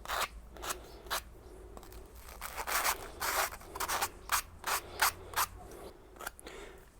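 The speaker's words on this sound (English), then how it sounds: "So the first thing, deburring. All this plastic needs to be got rid of." Freshly cut PVC pipe deburred by hand, its plastic burrs scraped off in a run of short, rhythmic rasping strokes, close and fairly quiet, with no talking.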